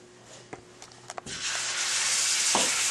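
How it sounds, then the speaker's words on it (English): Lamb pieces coated in spices dropped into hot oil, a few soft clunks followed by a rising, steady sizzle of frying close by. "So I guess I got boiling oil right here."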